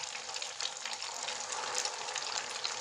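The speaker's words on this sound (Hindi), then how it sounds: "अब हम हाई फ्लेम पे ही कचौड़ी को फ्राई करेंगे।" Semolina kachori deep-frying in hot oil over a high flame, a continuous dense bubbling sizzle, close and even, with no talking.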